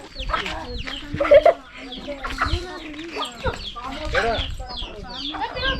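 Chickens cluck nearby in short, repeated bursts, with people talking over them throughout.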